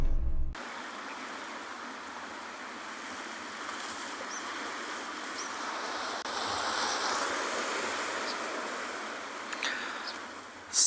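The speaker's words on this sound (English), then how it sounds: "Some lovely small waves crashing onto the rocks" Small waves washing onto rocks at a penguin beach: a steady, fairly loud broadband wash of surf, swelling slightly midway, with no voices.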